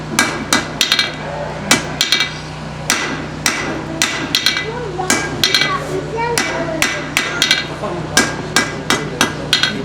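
Hand hammer blows on hot metal as a blacksmith forges a tool, loud sharp strikes in an irregular rhythm with a low hum beneath.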